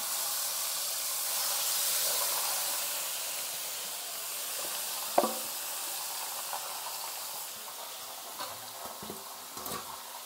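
Chicken pieces dropped into hot oil with asafoetida for a village-style Bengali chicken curry, a soft steady sizzle and hiss with a few faint clinks of stirring.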